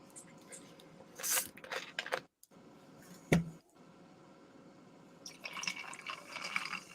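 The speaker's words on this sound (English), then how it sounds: "I hear ice cubes." Ice cubes in a glass of Coke clink and rattle a few times, with faint liquid sloshing over a quiet background murmur.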